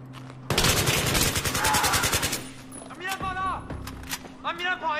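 Rapid automatic gunfire from a gun in the Battlefield 3 video game, a dense loud burst followed by scattered shots and whizzing effects, with a voice talking over the later part.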